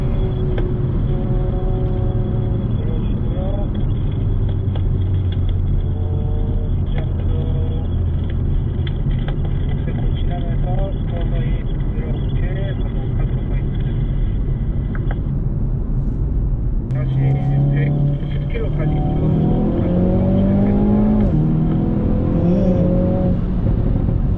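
A 2020 Hyundai Veloster N with an 8-speed dual-clutch gearbox accelerates hard toward 110 km/h, a loud, sustained engine drone rising steadily in pitch, with a brief dip at a gear change before climbing again, heard from inside the cabin.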